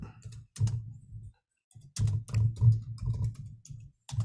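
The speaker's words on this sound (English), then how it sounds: "I'm typing this riddle into the chat." Rapid clusters of keystrokes clatter on a computer keyboard close to the microphone, with irregular bursts broken by short pauses.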